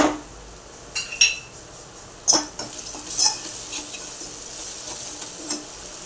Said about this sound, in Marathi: तर यामध्ये आपण हळद टाकून हळदही परतून घेऊया